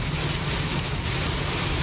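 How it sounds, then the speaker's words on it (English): Steady, dense rain hiss with a low wind rumble buffeting the microphone, constant and unbroken throughout. "So right now it's raining pretty good. It's a little windy"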